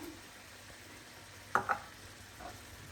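Chopped tomato is stirred into chicken frying in a pan: a steady, soft sizzle runs throughout, broken by a pair of quick utensil clinks and scrapes midway and a fainter one later.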